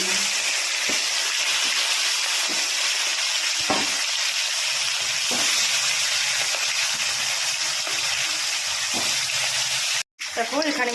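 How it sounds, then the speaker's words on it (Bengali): Fish pieces fry in oil with a loud, steady hiss and crackle and occasional soft pops, cutting off abruptly near the end before a short burst returns. "মোটামুটি ভালো করে মাছগুলো ভেজে নেব"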